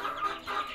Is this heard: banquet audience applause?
no